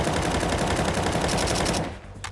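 Rapid automatic gunfire from the video game Counter-Strike, a loud, dense burst of repeated shots that cuts off, followed by a single faint shot.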